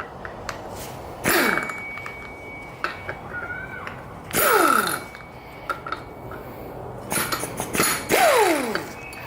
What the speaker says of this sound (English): you can just use an impact, which is what I'm going to do